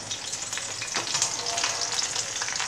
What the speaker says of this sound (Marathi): तेल तापलेलं आहे, तेलामध्ये आपण लसूण टाकूया. लसूण आणि कढीपत्ता